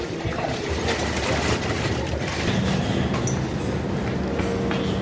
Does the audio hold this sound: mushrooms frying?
no